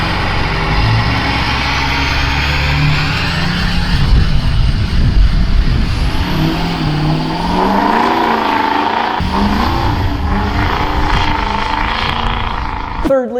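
A Ford 6.0 liter diesel engine revs hard on the throttle, a loud, sustained roar that climbs and falls in pitch, with someone talking over it.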